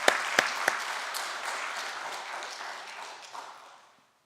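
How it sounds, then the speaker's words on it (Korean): A church congregation applauds during a Sunday afternoon service, with dense clapping and a few sharper claps near the start, holding steady before fading out over about four seconds. "박수로 한번 격려하면 좋겠습니다."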